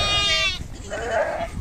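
Sheep and goats bleating at a farm gate, a loud close quavering bleat followed by a second, softer animal call, with no talking.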